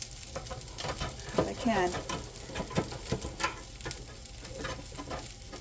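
Chicken nuggets made from leftover chicken salad sizzling and frying in a pan as one is flipped, with stirring scrapes and a voice talking briefly over the steady crackle.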